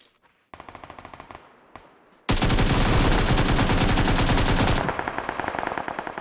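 Automatic gunfire in PUBG Lite, a fast rhythmic burst of close, loud shots followed by a long roaring stretch of continuous fire that breaks back into distinct rapid shots at the end.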